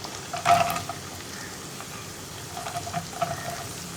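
Ginger, green chilli and onion fry in a pan with a continuous soft sizzle, a brief louder crackle and stirring scrape as ingredients go in, no one talking.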